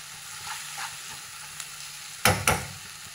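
Minced mutton keema sizzles gently with chili powder in a pan, a low, steady frying hiss, then two sharp, loud scrapes or clanks of a spoon stirring against the pan near the end.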